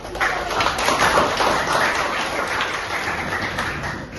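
A classroom group of students claps together, a dense continuous patter of hand claps at fairly close range that lasts several seconds and stays even in loudness.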